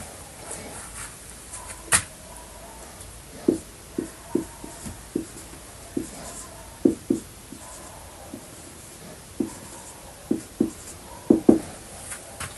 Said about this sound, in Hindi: मैं यहाँ पर एक वर्ड लिखता हूँ गुड